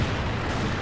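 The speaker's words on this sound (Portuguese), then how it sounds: "Ó, tá vendo? Tiro sai retinho, ó." Sniper rifle shot fired in the video game CrossFire 2.0, a loud booming crack that fills the short moment with dense low-end rumble and no pause.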